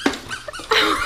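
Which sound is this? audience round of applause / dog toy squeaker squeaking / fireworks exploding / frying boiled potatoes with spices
dog toy squeaker squeaking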